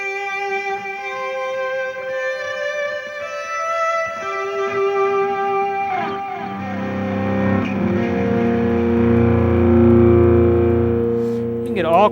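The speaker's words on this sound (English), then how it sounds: "Add a little distortion to that." Fender Stratocaster electric guitar played with distortion, clean sustained notes giving way to a thick, loud distorted chord near the end, alone without talk.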